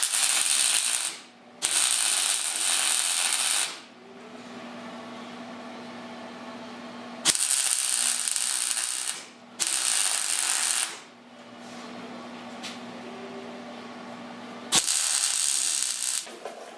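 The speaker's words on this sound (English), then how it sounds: "We're getting ready to weld on a new piece of metal" Welding a new metal panel onto a rusted-out Studebaker body where two panels meet, heard as loud crackling, hissing bursts of a few seconds each, separated by quieter pauses with a steady low hum underneath.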